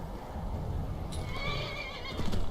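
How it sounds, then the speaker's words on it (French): A horse in the video game Skyrim neighs with a shrill, quavering whinny over a steady background noise, followed by a few faint hoof clops. "c'est un cheval bien dressé"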